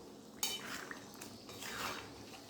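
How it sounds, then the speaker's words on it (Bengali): Fried onions (beresta) being stirred into a pot of chicken curry meant for biryani: a single metallic clank of a utensil on the pot, then faint, soft scraping and mixing, quiet and close with no talking. "দেখুন পেঁয়াজ বেরেস্তা কিন্তু আমি খুব ভালো করে মিশিয়ে দিলাম"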